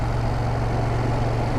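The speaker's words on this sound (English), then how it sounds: "we got a tractor coming up here" A tractor engine drones steadily on a rural Alabama road, a loud, continuous low rumble with no talking.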